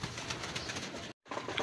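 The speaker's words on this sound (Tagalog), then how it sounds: "Nagkakagulo na yung mga ibon natin." Racing pigeons coo and flutter in a steady, busy chorus, with a brief dropout before the cooing resumes.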